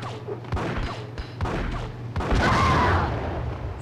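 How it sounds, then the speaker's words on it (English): A grenade goes off in the video game Max Payne, a few sharp gunshot-like cracks followed by a heavy, booming blast with a rumbling tail, loud and close. "She can't fight a grenade."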